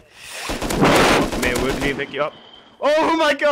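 LR-300 assault rifle fire in the video game Rust, a rapid burst of close, loud shots followed by excited voices talking and exclaiming.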